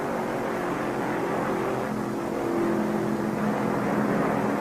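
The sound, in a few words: 1969 stock car racing engine roar at Firecracker 400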